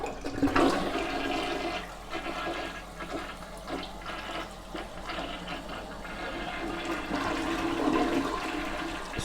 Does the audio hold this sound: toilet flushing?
yes